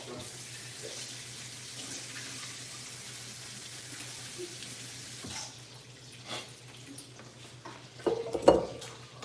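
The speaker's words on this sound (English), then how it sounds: "Let me wash this corn off" Tap water runs in a kitchen sink while corn is rinsed, a low steady flow with soft clinks of dishes and louder splashing near the end.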